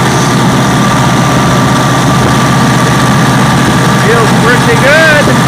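A Massey Ferguson MF 300 combine engine runs steadily just after starting, a loud low constant drone with engine vibration filling the whole clip, with a faint whine rising near the end.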